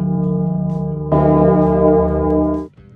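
A new, thicker metal bed support for a 3D printer rings like a bell when struck, a single clear ringing tone that sustains for about a second and a half before it is cut off.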